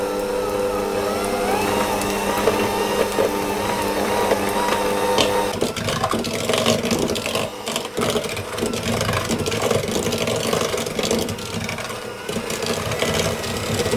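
An electric mixer beats softened butter for almond shortbread cookies, a steady motor whir that gives way to a rougher, clattering churn partway through, with no one speaking.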